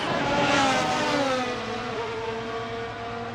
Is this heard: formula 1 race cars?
yes